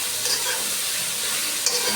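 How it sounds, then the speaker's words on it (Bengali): Boiled kolai greens stir-fried in a pan, giving a steady close sizzle with soft stirring scrapes and a brief clatter near the end, without any voices. "শাকগুলো দিয়ে আমি খুব সুন্দর করে এই শাকটা ভাজা ভাজা করে নেব"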